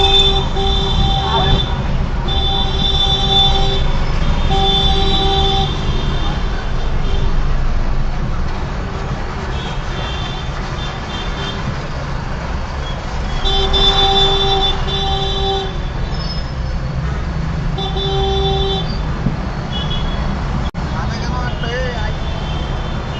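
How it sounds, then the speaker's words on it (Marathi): Repeated car horn toots, some short and some held longer, over steady engine rumble and road noise from nearby traffic including an auto-rickshaw, in a road rage incident. "मी हॉर्न वाजवला आणि छोटा हॉर्न वाजवला"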